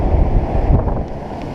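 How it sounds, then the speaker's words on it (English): Strong gusty wind buffets the microphone beside water at a catfish fishing spot, producing a loud, rumbling roar that swells and eases across the short stretch, with no voices. "it is crazy windy today. Crazy windy."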